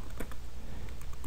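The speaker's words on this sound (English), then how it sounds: "we're going to type TAC command" Quick, light keystrokes on a computer keyboard as a command is entered at a Windows administrator prompt, a short close burst of soft, irregular clicks.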